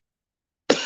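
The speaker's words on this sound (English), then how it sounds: "I don't know why I'm coughing so much today" A man gives a single short, sharp cough, close and loud after a moment of silence.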